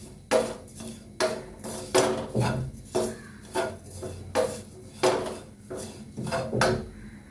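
A spoon scrapes and clinks around a pan in about a dozen rhythmic strokes, mixing Kashmiri chilli powder into dried shrimp chammanthi. The strokes are close and crisp, with no talking.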